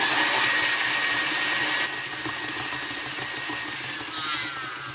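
Electric mixer running on its highest speed, beating a butter dough for Czech beehive cookies; a steady, loud whirring motor drone that shifts slightly in pitch partway through, with no talking.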